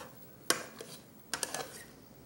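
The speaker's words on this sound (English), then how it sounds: "Stir it, man. Got to stir that." A spoon clinks and scrapes inside a pot as a pork backbone dish is stirred, with a few sharp metallic taps spread over a quiet kitchen background.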